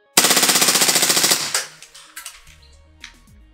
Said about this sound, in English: Let's see how quick she can empty the magazine in full auto.